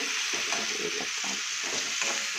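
Garlic and onions with tomato sauté in a hot pan, giving a steady, close sizzle and frying hiss with light stirring scrapes throughout.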